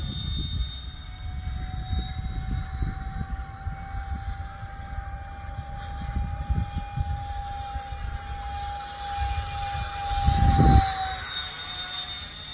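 Electric ducted fan model jet, an FF-117V2, flying at near full throttle with a steady high-pitched fan whine that stays prominent throughout, swelling louder around a close pass near the end over low rumbling wind.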